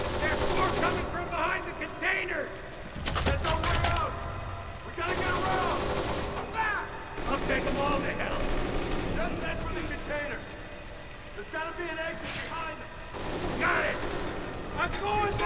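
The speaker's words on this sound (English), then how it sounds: "Oh my god, this shotgun is just so powerful." Powerful shotgun blasts in the video game Kane and Lynch 2, fired in loud repeated bursts amid chaotic combat noise, with voices mixed in.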